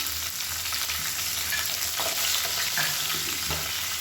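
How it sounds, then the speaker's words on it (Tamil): Chana dal and spices fry in hot oil in a pan, a dense, steady close sizzle and crackle with occasional stirring scrapes, no voices. "இப்போ பாருங்கள் எல்லாமே நல்லா பொரிய ஆரம்பிக்குது, ரொம்ப கருக விட்டுறக்கூடாது"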